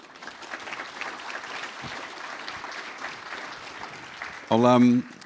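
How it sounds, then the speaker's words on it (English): An audience at a business summit claps in a moderate, steady round of applause with murmured voices mixed in, ending with a short, loud tonal sound. "Big round of applause for them"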